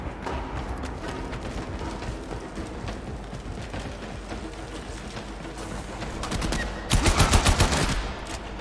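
Gunfire in the video game Warframe: a continuous stream of rapid automatic shots that swells into a louder, denser burst near the end.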